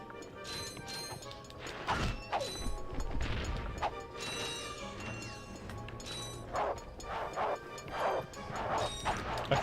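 Robotic dog enemies in the PlayStation 2 game Ratchet & Clank, heard as repeated metallic crashes, whacks and yipping barks spread through the scene, mostly without talk.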